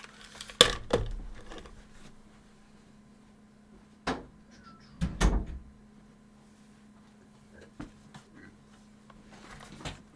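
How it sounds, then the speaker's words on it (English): A bedroom door being closed: a few separate knocks and thuds of the door and latch, spread over several seconds against a quiet background with faint hum, no talking. "I'm just going to close my door"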